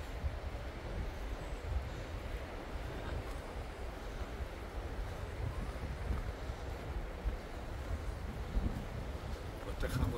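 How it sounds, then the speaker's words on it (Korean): Wind blowing on a mountain at night during a night hike, a constant low rushing roar buffeting the microphone, steady and fairly loud from start to finish. "산이라 바람 부는 곳은 많이 불거든요."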